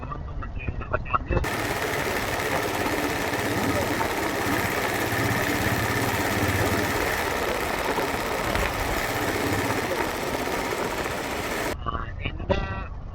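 Roadside traffic engines make a loud, steady, continuous rumble for about ten seconds. A voice is briefly heard just before and after it.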